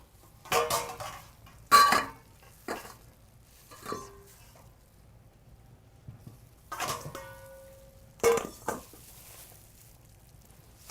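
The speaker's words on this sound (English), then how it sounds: "scoop the cabbage into a colander to drain off the liquid" Shredded cabbage for coleslaw scooped into a colander to drain, giving a few separate close clattering scoops and knocks with quiet pauses between them and no talking.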